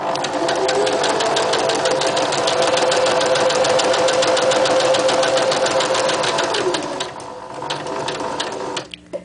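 A sewing machine stitches through a handmade card, running in a steady fast rhythmic chatter for several seconds, then slowing and stopping near the end, loud and close with no talk.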